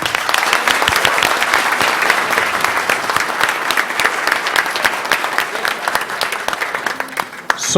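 A crowd at a parliamentary front meeting on state school infrastructure gives a sustained round of applause, loud, dense clapping with sharp individual claps standing out, tapering slightly near the end.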